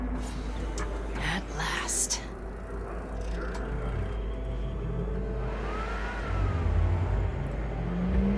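A car in Cyberpunk 2077 drives with a steady engine drone, then revs louder toward the end, while voices talk quietly over it.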